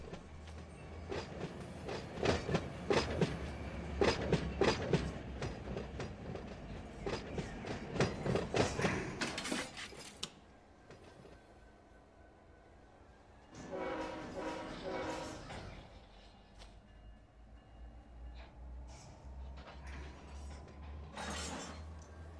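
A locomotive runs in the Run 8 train simulator game, with loud rumbling, clattering and horn-like tones for about ten seconds, then a quieter stretch broken by renewed bursts of rail noise.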